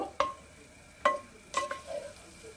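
Capsicum stuffing for Bengali-style bhat pora capsicum frying in a little oil, heard as a few sharp utensil scrapes and taps over a faint, steady sizzle, with no talking.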